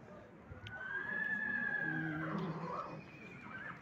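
At the Karakol livestock market, a foal gives one long, rising-then-falling whinny that is clear but fairly faint, over a quiet murmur of background voices.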